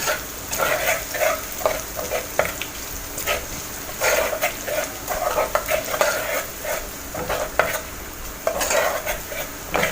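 Garlic and tomatoes fry in a pan while being stirred for a koshari sauce, giving a steady close sizzle broken by repeated scraping and clinking stirring sounds with no speech.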